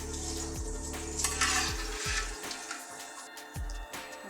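Jackfruit chips fry in hot oil with a steady broadband sizzle and bubbling, punctuated by a few low thumps and clatters as pieces are stirred or moved; no talking.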